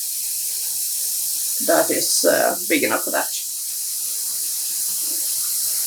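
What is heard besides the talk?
water running into a plastic tub for dyeing yarn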